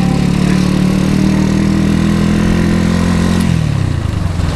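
A Honda CB motorcycle engine idles steadily up close, a loud continuous low rumble that stays even and then drops slightly in pitch near the end, with no talking over it.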